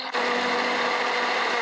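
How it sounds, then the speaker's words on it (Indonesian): A blender grinds spice paste for chicken noodles, a loud steady whir starting after a brief moment and running on alone without talk. "Kita blender dulu bumbunya sampai halus."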